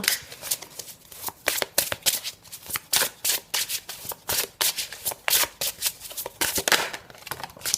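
Oracle cards of an angel deck shuffled by hand in a steady run of quick riffling bursts, close and clear with no talk.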